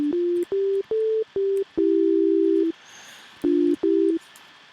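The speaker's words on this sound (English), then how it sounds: "it's just a sine wave pumping through that" A pure synthesizer sine tone plays a short melodic sequence of clean, steady notes, loud and close, with a held longer note in the middle and brief gaps.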